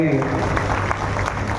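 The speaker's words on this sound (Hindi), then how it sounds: "जरा तालियां बजाकर स्वागत करें।" An audience claps to welcome a minister at a public gathering in Pachore, a dense steady applause that briefly overlaps a voice at the start.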